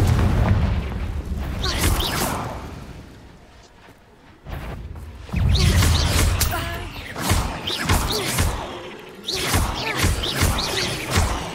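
Confringo blast spells from Hogwarts Legacy combat, heavy booming impacts and crackling bursts in several loud waves, with a voice shouting spell names over the explosions.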